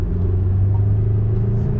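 Saab car idling steadily after subframe bushing replacement, a low continuous engine rumble heard close and alone, with no talk.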